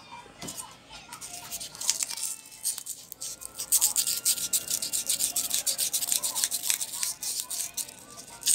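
Rapid back-and-forth scratchy rubbing of fine sandpaper on a wall fan part during repair, close up and steady in rhythm, growing more vigorous after a brief pause.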